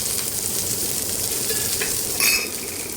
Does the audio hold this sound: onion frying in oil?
yes